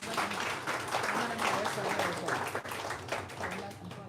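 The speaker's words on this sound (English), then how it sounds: "Give him a round of applause." A room of guests at a book launch for a historical society journal in Barbados claps steadily in a close, continuous round of applause, with some talking mixed in.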